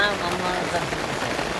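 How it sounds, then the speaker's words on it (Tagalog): Heavy rain pelts down in a loud, constant patter close by, with people's voices partly audible over it. "grabe ang lakas ng ulan"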